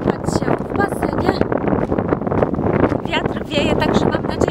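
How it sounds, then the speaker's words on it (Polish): Strong wind blowing across a beach on Lanzarote, roaring steadily as broadband buffeting against the microphone throughout, with a person talking over it. "Wiatr wieje, także mam nadzieję, że mnie słychać."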